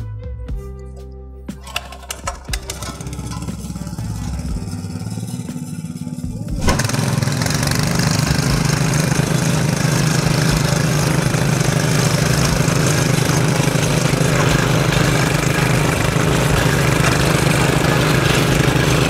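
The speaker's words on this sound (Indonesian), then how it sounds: "Oke, sekarang kita langsung aja operasikan kedua mesin bajak mini ini." Two mini single-axle cultivators, FTL900H and FTL500H, working a dry field, their engines starting up with sputters and then running loud and steady in a continuous rough drone.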